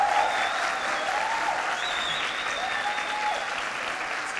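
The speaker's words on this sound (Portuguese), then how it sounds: "Será que você pode dar uma salva de palmas por essas vidas?" A church congregation applauding, sustained even clapping from a crowd filling the room, running steadily throughout with faint musical tones behind it and no talking.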